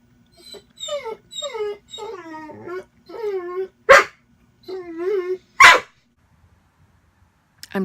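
A dog outdoors gives a run of drawn-out whining howls and moans, broken by two sharp, loud barks, alone and close.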